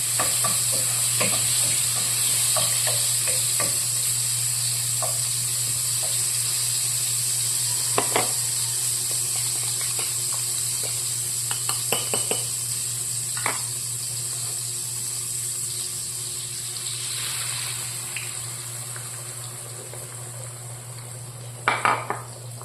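Eggs with tomato frying for a breakfast omelette in a pan, a steady sizzle under occasional stirring and the clink of a utensil against the pan, with no talking.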